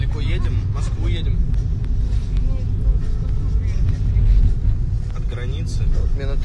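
Inside a moving car on a long road trip, a constant low road rumble and engine drone fills the cabin, with people talking over the steady noise.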